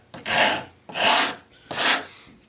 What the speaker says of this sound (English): You can kind of see just how fast it takes that walnut down and puts the chamfer on it.